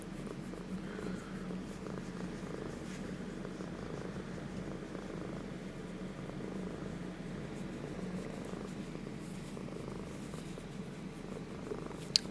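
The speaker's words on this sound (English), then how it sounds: "Can you hear the cat purring?" A cat purrs steadily and close up for the whole stretch, a continuous low rumbling drone at even loudness, with no talking over it.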